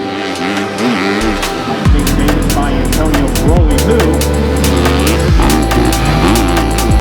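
A KTM 250SXF Factory Edition motocross bike tested at Glen Helen runs loud and close, its engine revving up and down in repeated bursts with rising and falling pitch.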